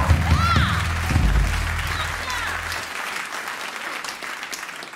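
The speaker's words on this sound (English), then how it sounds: "Make some noise for Mark on lights." Concert audience at a jazz club applauding loudly as the last musical notes die away, a dense, steady wash of clapping that holds for the whole stretch.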